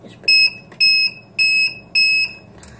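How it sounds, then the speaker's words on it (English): Four evenly spaced buzzes from an electric calling bell with a momentary switch and buzzer, each a sharp half-second high tone with short gaps between, loud and close. "my calling bell, which uses momentary switch and a buzzer"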